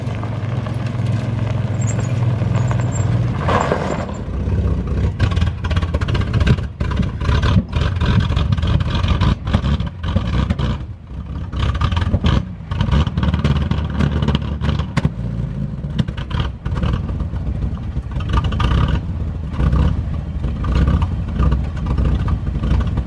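A small truck's engine runs and revs, with a lumpy cam rhythm and rattling clatter, loud and close throughout, with idle stretches between throttle blips.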